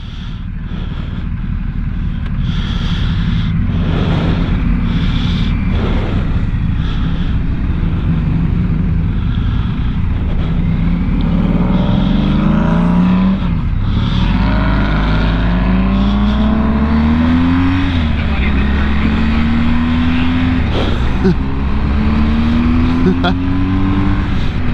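A Triumph Rocket 3 motorcycle accelerates hard past a BMW GSA 1250 on the road, its loud engine note climbing in pitch through several gear changes over steady wind rush.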